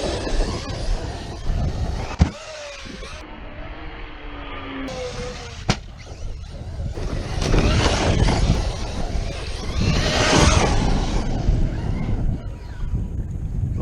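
Traxxas XRT 8s RC truck with speed gears and a Max6 driving on its stock setup outdoors, uneven bursts of motor whine and rushing wind noise with a few sharp knocks, rising and falling in loudness.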